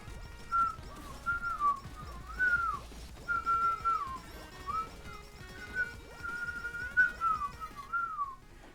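A person whistles a wavering tune of short melodic phrases with small breaks between them, close and alone over quiet game sounds in the background.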